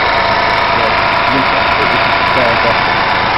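A 2005 Nissan Altima 2.5S engine idles with the hood open, a steady, loud mid-range hum with constant vibration throughout.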